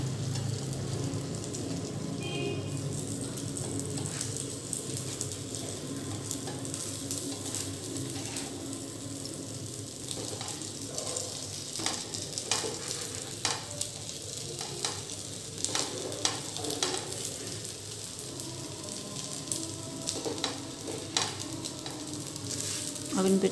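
Rava uttapam frying steadily on a pan over a medium gas flame, continuous close sizzle with light scraping and occasional clinks, no talk.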